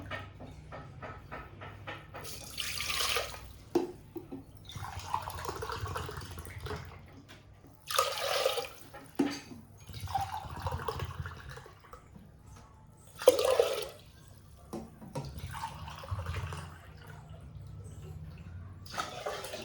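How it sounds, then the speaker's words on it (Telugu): Several separate bursts of water gushing and splashing as glasses of water are poured into a pot of soaked rice, each lasting a second or two, with quiet pauses in between. "దానికి 4 గ్లాసెస్ వాటర్ పోసుకుందాం."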